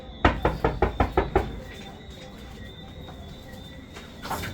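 Six quick, evenly spaced knocks rap on a door, loud and close, then a quiet room tone with faint insect-like chirping and a soft later bump.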